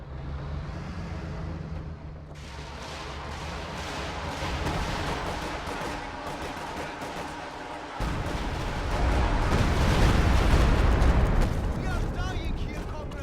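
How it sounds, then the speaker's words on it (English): Stuka dive-bomber barrage explosions in a strategy game build into a rolling series of heavy, booming blasts that swell louder toward the end, with a commentator talking over them. "Stuka Barrage destroys that green cover position."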